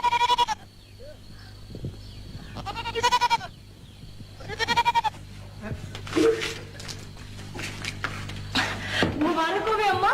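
A goat bleats repeatedly in loud, wavering cries spread through the scene, with people talking between and over the calls.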